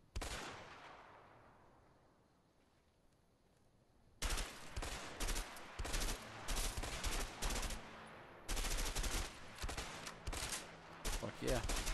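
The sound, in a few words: M16 burst-fire assault rifle gunfire in the video game A Way Out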